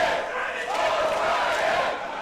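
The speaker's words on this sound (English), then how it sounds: "Listen to this crowd." A wrestling crowd at a West Coast Pro Wrestling show in San Francisco, roaring and shouting together in a sustained, swelling cheer for a couple of seconds, fairly distant and without a clear announcer voice.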